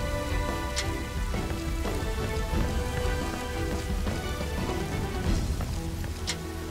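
Rain falls steadily in the video game Dynasty Warriors 7, a dense, even hiss of drops on surfaces holding a constant level throughout, with a few brighter splashes and faint rumbling underneath and no talk.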